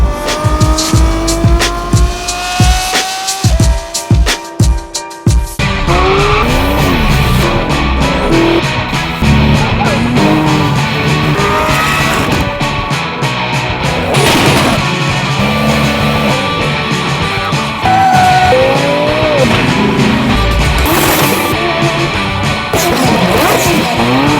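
Lamborghini Revuelto fitted with a Gintani exhaust, loud and close, first with sharp staccato blips, then a sustained roaring run with tire squeal and shifting engine pitch.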